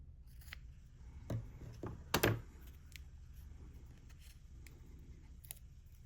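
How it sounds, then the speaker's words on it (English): Small scissors opened in a workshop beside a nut and bolt organizer, a few faint metallic clicks and soft knocks, with one louder snap near the middle over quiet background noise. "Just going to open up the scissors a little bit."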